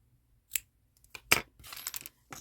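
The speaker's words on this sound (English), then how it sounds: "now what I'm going to do is I'm going to cut that yarn" Scissors cut yarn during crochet work on a light-up googly-eyed lollipop, giving a few brief, quiet snips and clicks close by.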